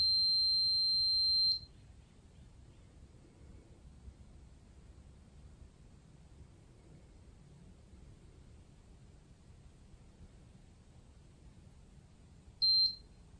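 A SARCTRAC 3D sensor gives a sustained high electronic beep during calibration, which stops abruptly and then returns briefly near the end, with quiet hiss between.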